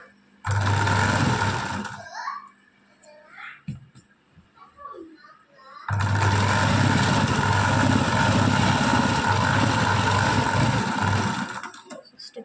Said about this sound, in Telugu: సో ఇప్పుడు కూడా స్ట్రైట్గా ఒక స్టిచ్ అనేది వేసుకోవాలి.